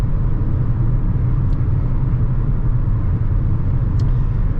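A car driven with no muffler gives a loud, constant low rumbling drone from inside the cabin, steady throughout with no pauses.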